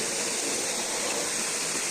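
Flowing stream water in rural Kashmir, a steady, dense rushing and gurgling that holds evenly throughout, close by and with no talk over it.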